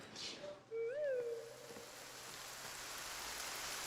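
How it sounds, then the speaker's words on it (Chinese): Steady rain hisses softly throughout, after a brief tonal squeak near the start. "哎，下雨了，你带伞了吗？"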